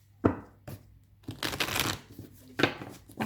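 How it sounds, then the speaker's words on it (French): Tarot cards being shuffled by hand in several quick riffling bursts with short pauses between them, close and fairly quiet, no talking. "je mélange bien."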